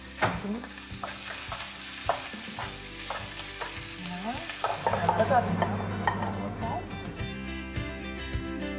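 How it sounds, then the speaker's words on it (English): Chicken, mushrooms, capsicum and onion grilling in a hot pan, a steady sizzle broken by repeated scraping and stirring clatter, with a voice talking over it. "Sekarang grill semua sayur. Bukan sayur je, ayam ni kita grill ayam juga. Cendawan, capsicum dan juga bawang."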